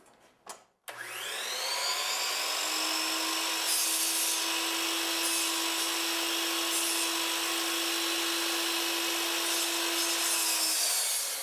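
Power saw cutting a short wooden baseboard piece, winding up after a brief click and whining loud and steady for about ten seconds close by.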